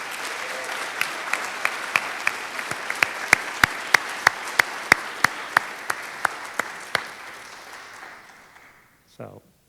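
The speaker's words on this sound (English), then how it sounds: "Let's have one more round of applause for all our People's Choice winners tonight." A high school People's Choice awards crowd claps steadily for the winners, a thick wash of applause with several sharp individual claps standing out, fading near the end before a short voice.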